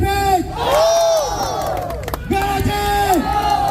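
At a truck modification meet-up in Batusangkar, Tanah Datar, a crowd shouts and cheers loudly in rising, whooping bursts, with voices mixed in and little distinct clapping.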